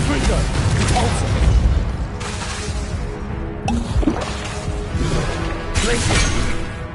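Spell blasts cast in Hogwarts Legacy, including fire and explosive spells: a run of loud booms, crackles and splashy impacts layered over busy game sound, with sharp hits landing every second or so.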